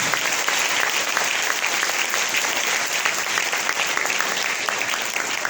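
Loud, sustained applause from a big crowd at a church service, dense and steady clapping filling the whole stretch without a break.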